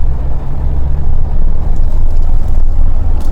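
A Mahindra Thar diesel automatic SUV accelerates on a city stretch, its engine a steady, loud, low drone with road rumble and no talking.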